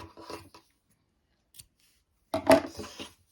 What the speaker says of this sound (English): So I'm just going to cut my both the yarns here.